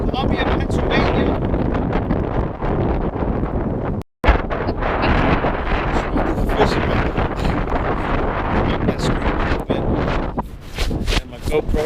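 Storm wind gusts and heavy rain batter a small camera on the Susquehanna River in Columbia, Pennsylvania, with loud buffeting and rattling, a brief dropout, and someone talking under the roar.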